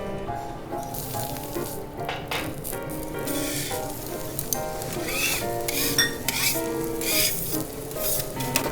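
A thick white reishi mushroom sears on a teppanyaki griddle alongside cauliflower and Fushimi peppers, giving a steady close sizzle with occasional clinks of metal utensils against the hot plate, and no voices.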